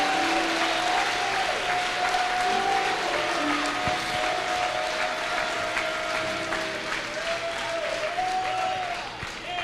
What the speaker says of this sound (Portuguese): Então dá uma salva de palmas para Jesus, que Ele é o nosso Senhor.